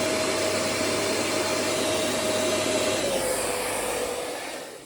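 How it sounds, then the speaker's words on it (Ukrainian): A hair dryer rated 3000 W blows steadily at full power while drawing about 1250 W from an inverter, a loud continuous airy roar with a high whine that dips slightly near the end. "Ось такий фен. Зараз покажу, скільки він реально бере"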